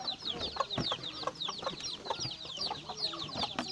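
Several chickens cluck and chirp busily at close range during feeding, a steady overlapping chatter of short calls with occasional scratching thumps underneath.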